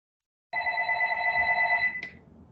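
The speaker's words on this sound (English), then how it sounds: "My phone's ringing" A phone rings out during a public meeting about a fire station and housing project, a sustained electronic ringtone lasting about a second and a half before cutting off.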